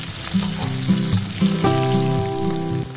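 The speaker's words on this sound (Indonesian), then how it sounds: "Kemudian kita tumis bawang merah, kira-kira 6 siung. Kita tumis sampai wangi." Shallots, about six cloves, sautéing in hot cooking oil for a risoles ragout filling: a loud, steady sizzle runs throughout, with a few stirring clatters from a utensil in the pan.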